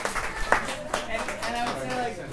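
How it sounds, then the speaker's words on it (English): Light, scattered clapping from a small café audience for a group of kids, sparse claps under someone talking over it. "yeah, you can clap for them, it's alright."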